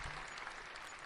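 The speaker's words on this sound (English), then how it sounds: "Applause provided by Dylan Michaels." Applause from a small group after a Chiefs game, a steady dense patter of clapping that stays even and fairly close for its whole short length, with no voices over it.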